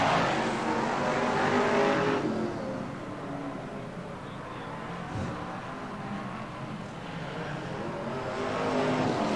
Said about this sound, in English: We're running BriSCA Formula 1 stock cars